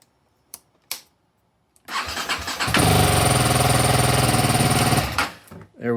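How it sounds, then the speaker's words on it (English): A BMW G310R single-cylinder motorcycle, just fitted with a new ignition coil, cranks after a few faint clicks, catches and roars into a loud steady idle close by for about two seconds before the revs drop away. "We got a running motorcycle again."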